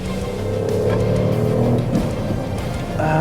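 Hire car Ford Fiesta MK8 cornering hard on a race track, a steady loud engine drone with shifting tonal whine throughout, heard from inside the car with no talk.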